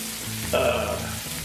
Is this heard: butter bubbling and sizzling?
yes